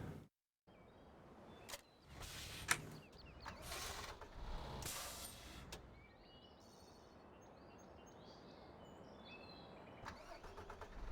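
A truck engine in Farming Simulator 15 cranks with mechanical clunks and a sharp click, then catches and settles into a low steady idle that continues to the end, with no talking.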